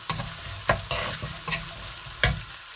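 Chopped onion and garlic with salt fry in a pan as the base for an okra and lentil dal, a steady sizzle broken by several sharp scraping stirs of a spoon, close and clear.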